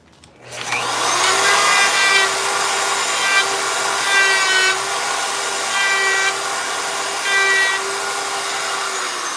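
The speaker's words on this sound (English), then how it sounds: "So we come over here to the bandsaw. Cut it out." A bandsaw cuts through knife sheath material with a steady whining drone, the blade's pitch swelling in short rhythmic bursts as the piece is fed, loud and close throughout.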